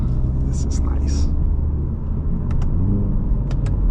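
2025 Hyundai Elantra N with a DCT gearbox pulling in second gear, a steady low engine rumble heard from the driver's seat that stays loud throughout, with faint whispery voices briefly on top.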